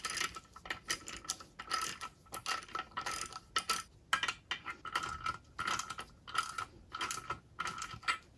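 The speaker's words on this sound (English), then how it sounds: "Next, go ahead and tighten them with your socket and ratchet." A socket and ratchet tightens 5/8 nuts joining a Mercruiser outdrive upper unit to the lower unit, making a close, rapid clicking ratchet in repeated bursts with short pauses between strokes.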